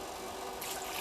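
Warm water runs from a tap into a jug, a steady rushing splash that brightens slightly as the jug fills.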